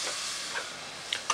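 Onions soften for a mirepoix in a hot pan, giving a steady close hissing sizzle throughout, with a few faint clinks near the end.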